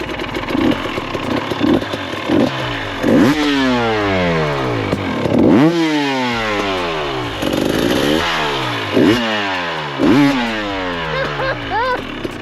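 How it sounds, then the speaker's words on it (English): A revived KTM motorcycle engine runs and is repeatedly revved, each blip rising and falling in a series of sweeping roars over a rough idle, loud and close throughout. "This thing sounds pretty good."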